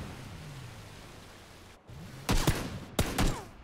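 Gunfire in the battle royale game PUBG, a few sharp shots in a quick burst at about two and a half seconds, then another pair near three seconds, over quiet background hiss.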